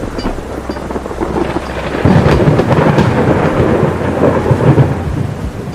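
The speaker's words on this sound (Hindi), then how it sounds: "ये तुम्हारी पहली बारिश है।" Cartoon thunderstorm with loud rolling thunder and steady heavy rain, the rumble swelling sharply partway through and staying close and full, with no voices.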